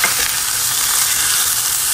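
Meat sizzles in a pan over browned onions, a dense, steady, bright hiss that runs loud and close without a break. No one talks.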